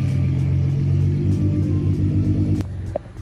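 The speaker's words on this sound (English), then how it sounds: "My Aventador SV, that was insane. I've never heard a louder car. You can still hear it." A loud, deep engine rumble from a Lamborghini Aventador SV, steady and throaty, then dropping off sharply near the end.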